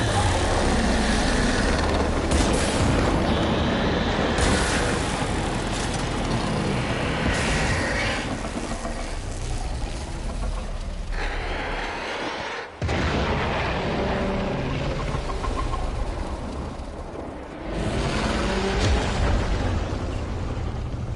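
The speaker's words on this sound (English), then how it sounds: "There should be useful detritus falling from the explosion." Dense, continuous battle noise from the video game Warframe: rolling explosions and booming bursts with gunfire layered throughout, loud and sustained with only brief dips.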